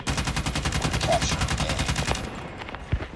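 Rapid automatic fire from an AK rifle in a ranked video game match rattles in an even burst for about two seconds, then stops, leaving a faint tail and a single thump.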